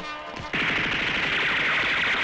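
Rapid machine-gun fire in a Spider-Man anime video game bursts in after a short lead-in and becomes a loud, dense, continuous rattle of shots with no pauses.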